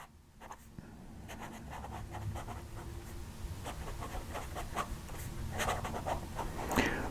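A fountain pen nib scratches across paper up close, a dry, gritty rasp in quick strokes and pauses, growing slightly louder toward the end.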